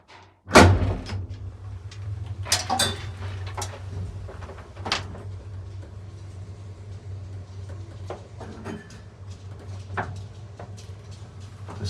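An old 1950 elevator door in an apartment building in Argüelles, Madrid, pops open with a sharp metallic clack, followed by softer scattered clunks and rattles over a low steady hum, with no talking.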